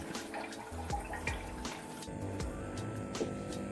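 Aquarium aerator pushing air through a hose into water, a steady bubbling and gurgling with irregular watery pops and drips, close and continuous.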